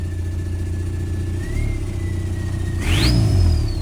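A TDI diesel engine swapped into a car revs up in a sustained low rumble, rising in pitch toward the end with a climbing whine, close and fairly loud.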